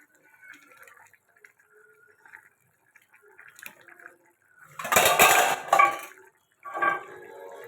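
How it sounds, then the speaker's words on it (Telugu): A metal lid set onto a pot of mutton curry, a couple of loud clattering knocks in the middle, then a shorter rattle, after quiet faint kitchen clinks. "ఇప్పుడు మూత పెట్టేసుకొని ఉడకబెట్టుకోవచ్చు అన్నమాట"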